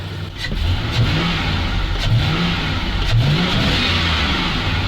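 A ZIL truck's engine, just repaired, runs and revs in repeated rising pulls over a steady low rumble, close and fairly loud, with no talk.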